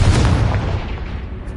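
A Confringo spell blast in Hogwarts Legacy, one loud, close, booming burst with a deep low rumble that slowly decays over a second and a half.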